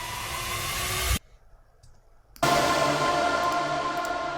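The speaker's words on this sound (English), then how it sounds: "white noise sweeps basically" Unprocessed white-noise uplifter sweeps in an electronic track: a loud hiss that cuts abruptly to near-silence for about a second, then bursts back in at full strength and holds, with no voices.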